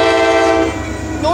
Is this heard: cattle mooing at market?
no